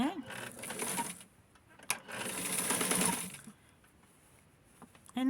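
A sewing machine stitches a collar shirt in two short close bursts of whirring, separated by quiet pauses, with a brief click in between.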